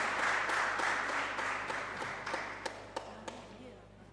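Applause for teachers at a school civic event in a hall, a broad wash of clapping from a crowd that thins out over a few seconds, ending in a handful of scattered individual claps.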